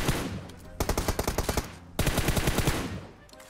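Automatic bullet spraying in the PUBG Mobile video game: two long rapid-fire bursts of evenly spaced shots, loud and close, split by a short break.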